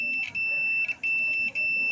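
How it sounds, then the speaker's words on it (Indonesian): Multimeter continuity buzzer beeping while a YongMa rice cooker is being tested, a loud, high, steady tone cut by three brief dropouts as the probe contact breaks, with faint speech. "Ini multitesternya pada posisi buzzer ya."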